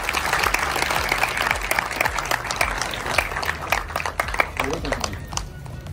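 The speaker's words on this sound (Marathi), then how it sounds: "एकदा जोरदार टाळ्या यांच्यासाठी." An audience at a family film screening breaks into loud applause, many hands clapping in a dense burst that thins into scattered claps toward the end, with voices talking over it.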